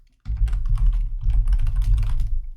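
Rapid, continuous clatter of keystrokes on a computer keyboard while a sentence is typed, close and fairly loud, starting after a brief silence and running steadily to the end with no voices.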